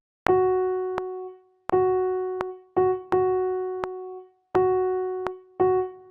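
Solo piano plays one repeated note in a short rhythmic pattern from Fauré's Pavane, the untied version, with seven clear struck tones, some held and some short, ringing out in quiet surroundings.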